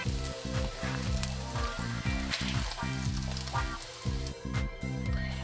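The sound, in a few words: Spam frying in a pan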